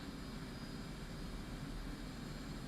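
F/A-18C Hornet jet engine in the flight simulator DCS World during an inverted display pass, a continuous broad roar that stays steady and fairly loud throughout with no speech.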